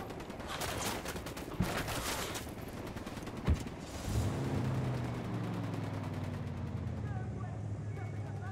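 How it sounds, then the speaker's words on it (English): Gunfire in the video game Ghost Recon Wildlands, bursts of distant automatic shots and a couple of sharper cracks, followed by a low engine drone, with a voice speaking during the action. "Dad's firing on the cartel."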